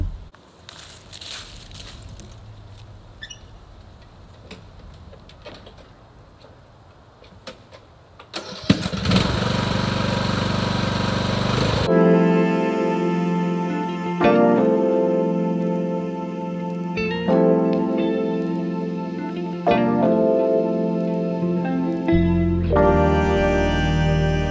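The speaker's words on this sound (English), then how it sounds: "let's go and see how well this Ariens riding mower could mulch leaves" An Ariens riding mower runs steadily at close range while mulching fallen leaves, a loud continuous engine drone with blade roar and occasional dips and surges in load.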